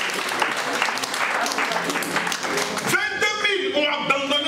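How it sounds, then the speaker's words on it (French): Church congregation applauding and cheering in a dense, steady burst of clapping with voices, giving way to music toward the end. "Est-ce qu'on peut acclamer le Seigneur?"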